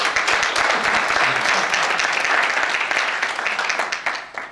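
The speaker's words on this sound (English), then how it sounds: "I would like to applause for this event." A teachers' conference audience of more than a hundred applauds in a dense, steady wash of clapping that holds evenly, then thins and fades over the last second.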